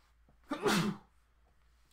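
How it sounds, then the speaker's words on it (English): One close sneeze with a brief breathy lead-in, then quiet room tone. "Oh man, guys, I got to sneeze."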